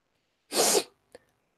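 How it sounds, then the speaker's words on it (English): A single sharp, forceful sneeze bursts out close by, followed by a brief faint sniff or breath a moment later. "I have to sneeze a lot because I don't know why."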